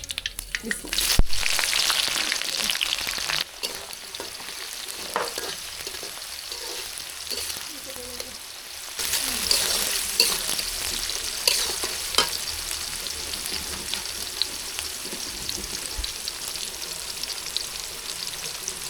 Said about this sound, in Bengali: লবণটা দিলে পেঁয়াজটা তাড়াতাড়ি ভাজা হয়ে যাবে